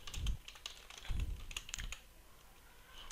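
Computer keyboard typing in short bursts of clicky keystrokes, loudest near the start and middle and fading toward the end, with no one speaking.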